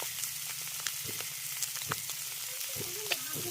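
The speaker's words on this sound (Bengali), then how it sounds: "পেঁয়াজের সঙ্গে ভালো করে নেড়ে মেশাবো আর ভালো করে ভাজবো" Small pond fish and onion fry in a pan, a steady hiss of sizzling oil broken by scraping stirs and a few sharp pops and clinks of a utensil against the pan, close up.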